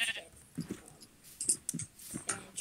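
Several sheep in a video game bleat in turn, short and nasal, spaced unevenly, with faint clicking in between and no talking.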